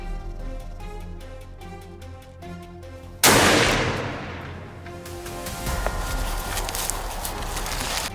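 A single loud gunshot fired at a charging wild boar during a farm-protection hunt, a sharp blast at about three seconds breaking a quiet, tonal background and followed by a decaying rush of noise and rustling.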